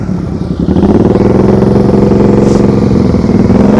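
A motorcycle engine is throttled during slow-speed riding practice, rising from a low idle into a steady, loud, close mid-pitched drone with a slight clattering pulse.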